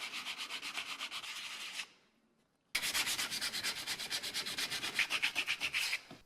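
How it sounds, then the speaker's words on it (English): Sandpaper of 80 grit rubbing over the worn wooden handle of a 110-year-old hand saw, quick steady back-and-forth strokes, close and clear, stopping briefly midway before resuming. "I'm going to remove the wear and tear from the handle using 80 grit sandpaper and work my way up"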